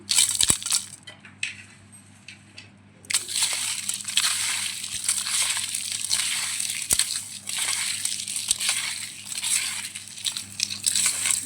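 Dried red chillies and coarse rock salt are crushed and rubbed together by hand for Rayalaseema pachhi pulusu, producing continuous close crunching and gritty crackling with a brief quieter pause near the start.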